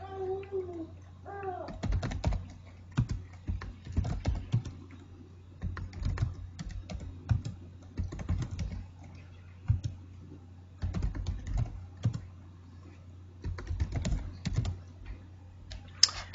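Names are typed on a computer keyboard in irregular bursts of crisp, close key clicks separated by short pauses, running over a steady low hum.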